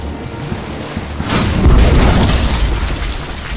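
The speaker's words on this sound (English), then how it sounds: "Then empty the cannons on him, me hearties." Cannon fire in the pirate video game Tales of Monkey Island: a single loud, deep boom that swells and rumbles for a couple of seconds over a low ambient background.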